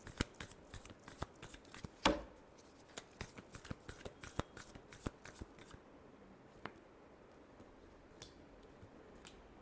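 Tarot cards are shuffled by hand in a quiet room, a run of close, crisp riffling clicks and flicks that thin out toward the end.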